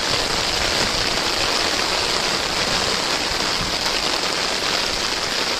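Muddy river water rushes steadily during rainy weather, a dense, continuous broadband wash of flowing water that stays loud and unbroken throughout with no voices.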